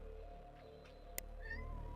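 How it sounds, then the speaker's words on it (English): A house cat perched on a bookcase gives a couple of soft meows, close and fairly faint, over a low steady background hum. "Kitty cat up on top of my bookcase next to me."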